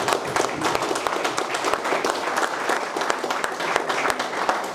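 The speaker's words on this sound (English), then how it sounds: "I'd like to give Dino and Winslow a round of applause." A crowd at a charity cup event claps steadily and loudly for a few seconds, dense overlapping applause holding at an even level throughout.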